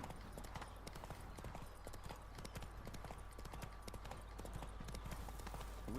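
Hooves of the horse Roach clip-clop at a steady walking rhythm in The Witcher 3: Blood and Wine, the horse wearing armor, with quiet ambient game sound underneath.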